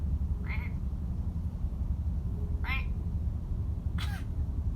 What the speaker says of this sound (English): there's a frog somewhere nearby.